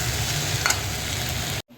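Leafy greens, a mix of 101 kinds, stir-fry in a hot pan with a steady, loud sizzle and a brief stirring scrape, then the sound cuts off abruptly.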